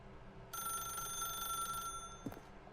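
A telephone rings in the video game The Stanley Parable, one sustained electronic bell trill lasting over a second, fairly faint and heard alone, followed by a brief soft clunk.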